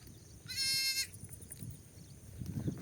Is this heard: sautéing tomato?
no